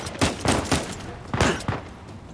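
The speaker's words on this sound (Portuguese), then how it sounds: "tô tomando tiro de algum lugar" Bursts of gunfire from the Uncharted 4 video game crack out in quick clusters, loud and close, with short pauses between volleys.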